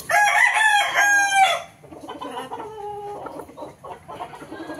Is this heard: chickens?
yes